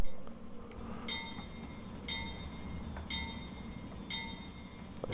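Steady low rumble inside the cab of an SP AC4400CW locomotive in Train Simulator Classic, fairly quiet, with a bright ringing tone repeating about once a second, likely a cab alert or bell.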